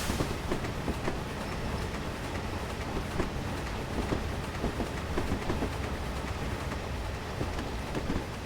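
Train shunting in a railway simulator game, a continuous rolling rumble with rhythmic clicks and clatters of wagons running over track, steady and fairly close with no talk.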